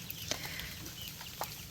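Chickens in a backyard coop built from free pallets cluck faintly at a distance, a few soft isolated clucks over steady outdoor background noise.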